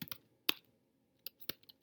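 Sparse computer keyboard typing, a few quick isolated key clicks with pauses between, close and quiet, with no talking.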